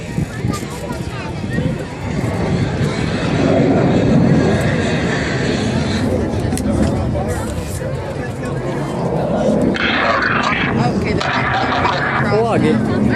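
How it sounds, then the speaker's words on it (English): Four aircraft flying a diamond aileron roll at the Cleveland airshow give a sustained, loud engine roar mixed with wind noise and a murmur of crowd voices. "all 4 pilots will simultaneously roll their aircraft 360 degrees as they perform the Diamond Aileron roll."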